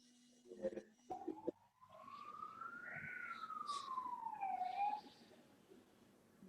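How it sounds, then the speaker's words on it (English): A single ambulance siren wail rises and falls in pitch, fairly faint and distant, following a few brief knocks at the start. "who's got the ambulance nearby?"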